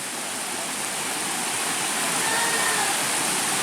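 Phu Rin waterfall in Khlong Sa, Kanchanadit, Surat Thani, pours with a steady, dense rushing roar that holds constant and close throughout, with no voices over it.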